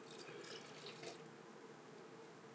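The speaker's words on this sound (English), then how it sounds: "And then our cold water, and that's just from my tap, cold water." Cold tap water running steadily into a kitchen container while making pizza dough, a continuous soft hiss and splash heard close and alone, fairly faint.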